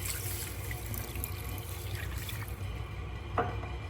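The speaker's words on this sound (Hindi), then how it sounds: "इसमें अब हम डालेंगे 1 गिलास पानी" A glass of water is poured into a covered pot of fenugreek seeds, giving a steady, close trickling splash that runs continuously with no one talking.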